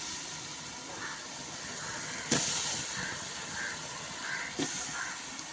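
Liquid for a mushroom curry boils in a pot, giving a continuous bubbling hiss, with two brief louder bursts rising over the steady simmer.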